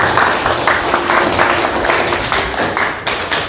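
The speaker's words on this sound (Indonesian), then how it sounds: "tepuk tangan buat kita semuanya" A class of tenth-grade students claps together in a classroom, a loud, close burst of applause with a lively, slightly rhythmic texture throughout.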